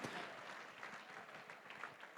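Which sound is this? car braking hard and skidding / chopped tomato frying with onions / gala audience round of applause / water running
gala audience round of applause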